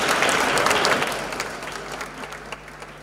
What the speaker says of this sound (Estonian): Kas ma tohin paluda, et me teeme neile aplausi?